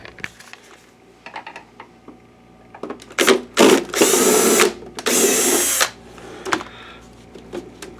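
Screws come out of a BenQ W6000 DLP projector under a powered driver: a few light clicks, then two long whirring runs close by, ending in quieter ticks.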